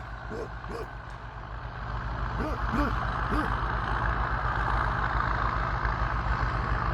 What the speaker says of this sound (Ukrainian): Трактором зразу хлопці закривають.